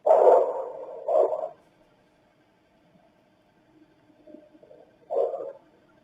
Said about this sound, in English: whatever dog is barking, regardless if it's Murphy or not, is outside